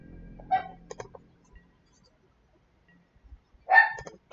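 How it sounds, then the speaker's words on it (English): A wild dog barks in two short bursts a few seconds apart, fairly near and clear against a quiet background, with a few faint thumps in between. "A wild dog is barking."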